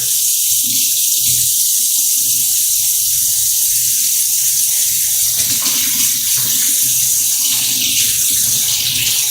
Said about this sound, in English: So let me get out some water. I believe it's supposed to be hot water.